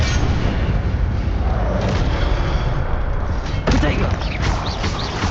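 In the Hogwarts Legacy video game, an Incendio fire spell is cast amid dense, loud booming and rumbling combat effects that fill the clip, with a sharper burst near the end.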